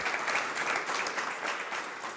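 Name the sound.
audience applause at policy dialogue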